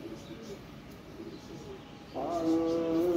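Golden pigeons cooing nearby, a soft low coo early on followed by a louder, sustained rolling coo that fills the last second, over faint background noise.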